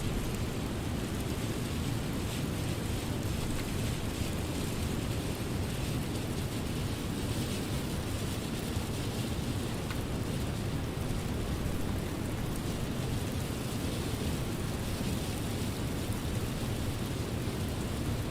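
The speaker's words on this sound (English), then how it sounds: "Rain is starting to hit us." Rain patters steadily on a Singapore Airlines Boeing 777-300ER airliner in Microsoft Flight Simulator 2020, a faint, constant hiss with low rumble and no voices.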